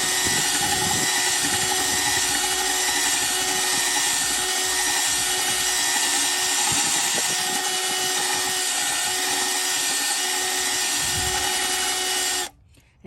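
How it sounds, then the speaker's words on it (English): A masonry drill bit whines and grinds steadily and loudly for about twelve seconds while drilling a drainage hole in a masonry pot, then cuts off abruptly. "it's beginning to kick up sediment, so it is indeed drilling a hole"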